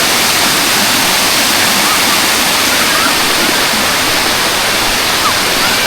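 Loud, steady rush of the Cauvery river pouring and churning along its bank, a dense continuous roar like a waterfall that fills the whole stretch without a break.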